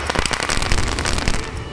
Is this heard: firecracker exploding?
yes